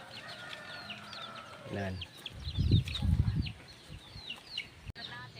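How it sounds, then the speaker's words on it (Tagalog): Backyard chickens, a mother hen with her grown chicks, cluck and chirp in a steady scatter of short calls, with a few deeper grunts and a brief voice mixed in outdoors. "So yan mga manok ko."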